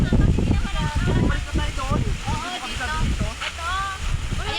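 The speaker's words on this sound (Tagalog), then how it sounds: "Ang lakas ng hangin dito" Strong wind buffets an outdoor spot near a house, roaring steadily with gusty swells throughout, mixed with close voices talking over it.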